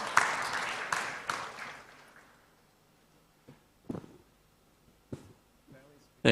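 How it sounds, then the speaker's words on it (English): Audience applause at an international quality tourism conference, loud at first and thinning out within about two seconds, followed by quiet with a few scattered soft noises and a brief voice near the end. "Let's give a round of applause to Professor Azahari."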